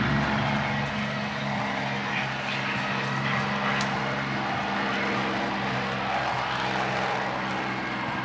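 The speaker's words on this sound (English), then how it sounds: "There's the Curtis P40 taking off. That's actually got a Merlin engine." A Curtiss P-40 fitted with a Merlin engine takes off, its steady broadband roar filling the whole clip with a continuous engine drone and rumble, loud and sustained throughout.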